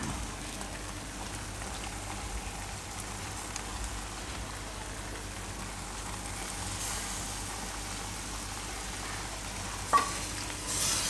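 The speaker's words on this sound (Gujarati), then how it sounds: "તો હવે આપણે આમાં નાખી દઈશું આ બ્રોકોલી." Broccoli sizzles steadily in a pan over a medium gas flame as a Gujarati paneer and broccoli shaak cooks, with a continuous close frying hiss and a brief clink of a utensil near the end.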